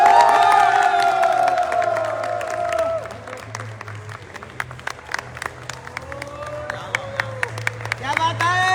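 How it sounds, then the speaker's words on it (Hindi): An audience claps and cheers for a Mercedes-Benz GL car award at a company achievers' event, shouts and whoops over dense applause that thins into scattered sharp claps, with an amplified voice ringing above it. "मर्सिडीज के लिए कैसी ताली होनी चाहिए वो आप बताओ।"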